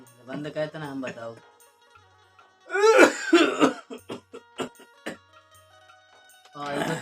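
A man coughs and clears his throat in short harsh bursts, close by, between stretches of talk in a Bundeli comedy sketch.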